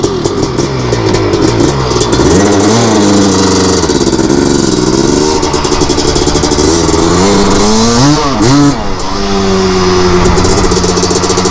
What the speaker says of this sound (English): I'm just gonna cruise around for like maybe 5 or 10 minutes, do like a little break-in